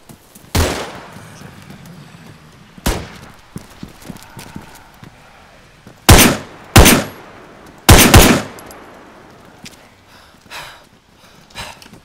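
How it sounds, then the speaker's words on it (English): Gunfire in the video game Arma 3. Several loud, sharp single shots ring out at uneven intervals, two in quick succession, with faint background noise between them. "This guy's shooting at somebody."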